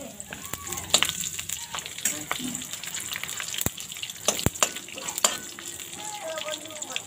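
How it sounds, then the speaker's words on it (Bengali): Whole spices, slit green chilies and a bay leaf crackle in hot oil with intermittent pops and sputters, sharp spits standing out over a low sizzle, close by with occasional clatter. "ফোড়নটা আমি হালকা ভেজে নিয়েছি,"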